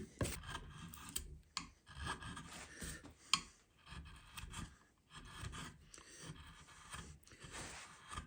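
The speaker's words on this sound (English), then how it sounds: "just trying to scoop a dish out with a gouge" A gouge scoops a dish shape out of wood for a violin-making jig, giving uneven scraping and rasping strokes close by, with short pauses and one sharp knock, and no talking.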